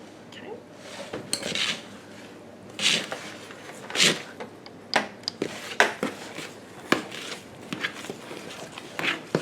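Butter and milk stirred in a bowl with a utensil, giving irregular close clinks, scrapes and knocks against the bowl, loud bursts separated by short pauses.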